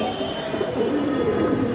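A dense chorus of Giribaj high-flyer pigeons coos close at hand, low warbling calls layered into a constant loud hum with no pauses or talk.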